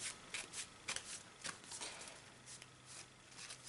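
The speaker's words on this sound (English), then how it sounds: "So I'm just gonna draw 2 random cards from my deck." Yu-Gi-Oh cards are drawn from a deck by hand, with a series of quiet, close card slides and shuffling rustles in a soft, uneven rhythm; no talking.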